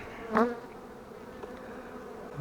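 Honey bees hum steadily while a caught swarm is shaken into a hive. The buzzing is close and soft, with one louder bee passing near the microphone.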